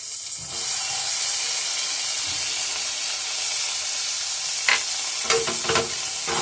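Ginger and green chili paste sautéed into a spice masala in a pan, a steady loud sizzle and hiss throughout, broken by several scraping stirs toward the end; no voices.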